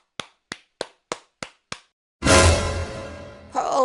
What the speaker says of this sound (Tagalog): bakit kayo namamato ng bobong?